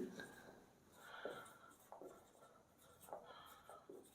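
Chalk or marker writing on a classroom board during a physics lesson, faint scratchy strokes in short irregular bursts, with a teacher talking throughout.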